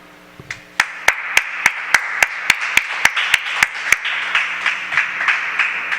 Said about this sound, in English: there was thunderous applause here